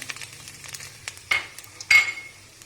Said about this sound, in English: Now we stir the ingredients together.